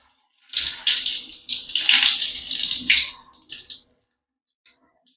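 Mirchi bajji, battered chilies, go into hot oil with a loud, close burst of bubbling sizzle that lasts about three seconds, fades out, then gives one brief last crackle.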